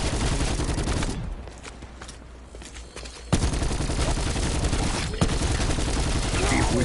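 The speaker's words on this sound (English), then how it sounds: "A few more shots, my weapon will fall silent." Dense video-game gunfire plays loud and continuous for the first second, drops to a quieter stretch with scattered shots, then returns as sustained heavy firing with a sharp burst near five seconds.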